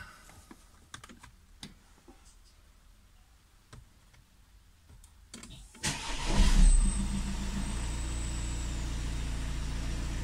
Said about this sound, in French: Un petit démarrage.